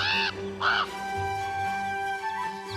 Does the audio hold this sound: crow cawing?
yes